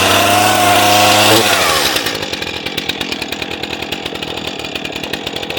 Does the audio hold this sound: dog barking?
no